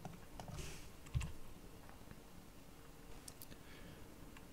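Typing on a computer keyboard while setting up Alpine Linux in a FreeBSD virtual machine: a few faint, scattered keystrokes and clicks, quiet and close.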